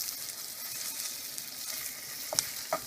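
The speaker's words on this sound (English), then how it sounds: "when you're frying things like this" Food frying in a pan for a vegan soup, a steady broadband sizzle with a few small pops and crackles near the end, fairly close and continuous, no voices.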